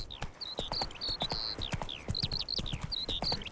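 Geralt's horse Roach trots in The Witcher 3, and its hooves strike in a quick, even clip-clop. High bird whistles chirp repeatedly over the hoofbeats.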